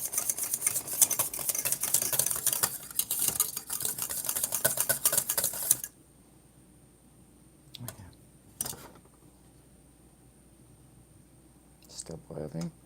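Homemade banana pudding being stirred in a pot on the stove, a dense scraping and clinking rush for about six seconds that stops abruptly, followed by near silence with a few faint knocks.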